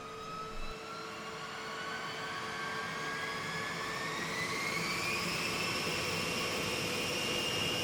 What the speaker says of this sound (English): the pilots fire up each of the B-52's 8 engines